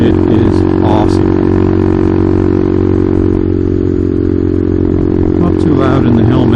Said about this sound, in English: just installed the Tyga High Mount exhaust. Listening to the sound, it is awesome.